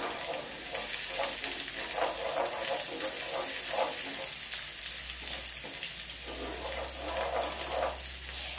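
Shrimp and food sizzling in a hot pan during a quick stir for stuffed tilapia, a loud, continuous hiss with soft scraping of the utensil throughout.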